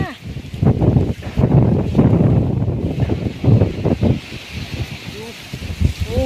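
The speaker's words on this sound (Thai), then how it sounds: "ลมแรงจังเลย" Strong gusty wind buffets the microphone ahead of a storm, roaring steadily with rustling bursts, while a person talks over it.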